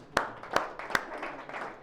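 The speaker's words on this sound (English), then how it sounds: "Let's give that a round of applause." Three sharp, evenly spaced hand claps ring out close by, followed by softer, scattered clapping from a small audience.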